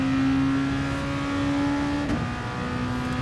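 Red Bull X2014 Junior race car in Gran Turismo at wide-open throttle on Monza's no-chicane layout, a steady high engine drone with a strong sustained tone and a brief shift-like dip near the end.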